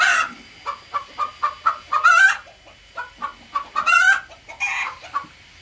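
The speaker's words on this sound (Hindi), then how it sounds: "एक मुर्गी अंदर गुस्सा हो गई है" An angry hen inside a coop clucks in a quick, agitated run of short calls as eggs are collected, close up, rising into louder squawks twice before settling.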